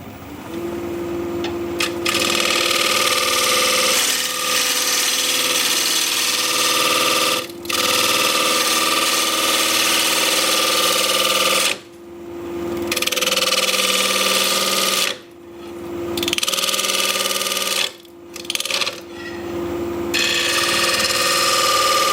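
A wood lathe runs while a high-speed steel scraper bites into extremely hard, cracked wood, producing a loud, harsh continuous grinding whine broken by several brief pauses as the tool lifts off, close and without talk.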